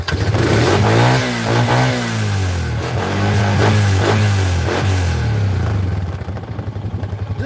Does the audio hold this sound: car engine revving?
yes